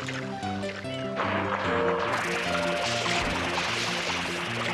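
FLUDD taking on water in Super Mario Sunshine: a gurgling, bubbling fill that swells into a dense rushing wash about midway, heard over tonal game music.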